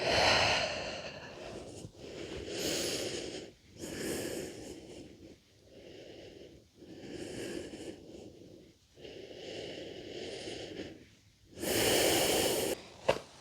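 Slow, deep breaths during a yoga flow, each long inhale and exhale rising and falling in a steady rhythm, close and clear with no talking.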